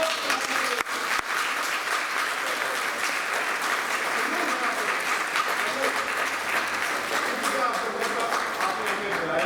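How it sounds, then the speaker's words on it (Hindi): A large audience at a Hindi comedy stage play claps loudly and continuously for nearly ten seconds in a dense, steady wash of applause. "हम आपके लिए जोरदार इसलिए ताली मार रहे हैं।"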